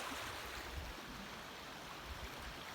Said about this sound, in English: the water trickles down through the soil and through the rock and to the culvert